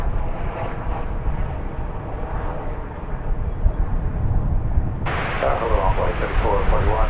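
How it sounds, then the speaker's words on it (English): An American Airlines Airbus A340 arrives at DFW airport with a continuous engine rumble that swells louder and brighter partway through as the jet passes close. "Here comes an American Airlines Airbus A340 from Sacramento"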